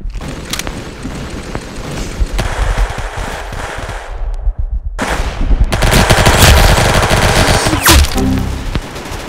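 Bursts of rapid automatic gunfire from the Roblox shooter Arsenal, loud and dense, breaking off briefly near the middle before a heavier barrage with booming impacts resumes.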